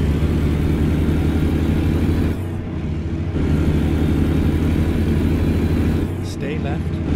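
A car engine hums low and steady after a downshift into fourth gear, a loud droning rumble that holds nearly unchanged with a brief dip midway, overlaid by a talking voice.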